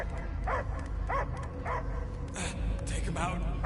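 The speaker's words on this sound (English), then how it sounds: "I hear only barking." A dog barks and yips in the video game Guardians of the Galaxy. Several short barks repeat at intervals over a steady background drone, and voices talk over them.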